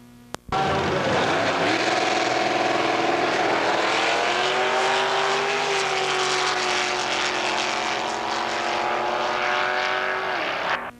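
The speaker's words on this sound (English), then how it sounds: "Gary Dix readies his Merc to face the rear engine rail of Steve Carlson." A 1990s drag race pits a Mercury against a rear-engine rail dragster: engines roar up loudly from a sudden launch and hold a sustained, rising howl for about ten seconds before dropping away.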